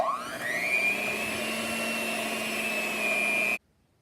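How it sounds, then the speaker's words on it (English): An electric mixer creams butter for shortbread cookies, its motor whine rising in pitch at the start, then holding a steady, close drone before cutting off abruptly. "So we're gonna mix that until sort of creamy, and then we're gonna add the flour."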